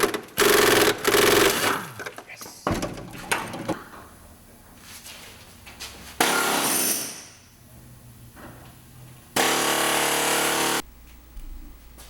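Cutting tool slicing through a bar on a Toyota truck bed near the frame mount, in loud harsh bursts of a few seconds with quieter pauses between them, the last bursts steady and abrasive.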